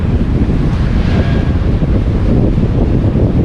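Strong wind roaring across a sailing boat at sea around twelve to fifteen knots, a loud, steady rush of wind noise buffeting the microphone with waves underneath.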